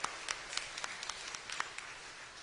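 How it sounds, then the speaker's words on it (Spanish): A church congregation at a Sunday Mass applauds a girl's fifteenth birthday: faint, sparse hand claps, distant and thin. "un aplauso a Alison."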